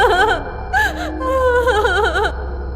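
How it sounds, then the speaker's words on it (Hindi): A girl cries at night in a Hindi horror story, with several shaky, wavering sobs and whimpers, quavering and breathy, over a low background hum. "इतनी रात गए लड़की के रोने की आवाज"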